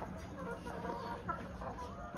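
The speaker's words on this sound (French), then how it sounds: "il y a une poule pondeuse qui est là. C'est une Lohmann Brown." A Lohmann Brown laying hen clucks softly among other hens in a coop, a low, continuous murmur of fowl sounds heard close under faint background noise.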